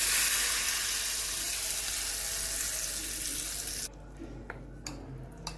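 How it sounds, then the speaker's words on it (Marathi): A loud, steady hiss of hot oil sizzling as a tempering is poured onto tomato peanut chutney, fading abruptly partway through to quiet with a few faint clinks. "आता ही फोडणी आपण मस्त याच्यावर घालू"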